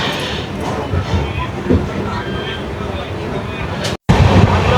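A passenger train rolls onward past Murshidabad Junction, heard as a steady broadband rumble and rattle from onboard that carries through the whole stretch and cuts out abruptly for a moment near the end.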